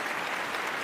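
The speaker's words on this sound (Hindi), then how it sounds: "मुझे तालियों की गड़गड़ाहट सुनाई दी।" Applause from an audience in a Hindi horror audio story, a dense, steady wash of many hands clapping that fills the short moment, close and loud, with no voices over it.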